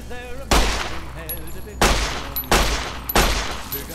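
Shots ring out at a small red scorpion in Fallout: New Vegas: four sharp, loud bursts of gunfire at uneven intervals, each trailing off briefly, with no voices.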